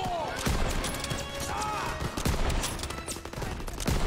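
Dense battlefield gunfire from Call of Duty: WWII crackles continuously, with overlapping shots and sharp individual reports punching through a loud, steady wall of combat noise.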